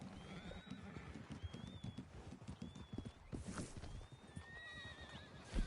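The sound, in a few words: horses neighing in the video game Red Dead Redemption 2 Online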